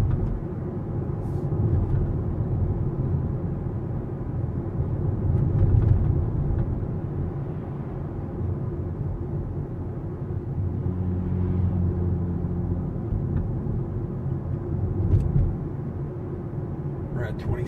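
A Toyota Prius Prime plug-in hybrid coasting along a road gives a steady low rumble of tyre and road noise, unbroken for the whole stretch, with a person talking over it inside the car.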